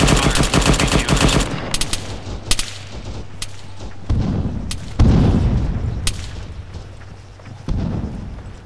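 Heavy gunfire from BTR armoured vehicles in a military video game: a rapid machine-gun burst followed by several loud, separated booming shots with echoing tails, close and alone without talk.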